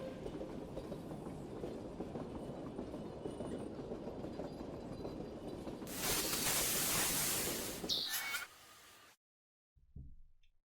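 A metro car ride in the Phoenotopia Awakening video game: a steady rumbling, rattling rail-car drone runs for several seconds, swells into a harsh hissing roar, then stops abruptly into silence with a faint thud after.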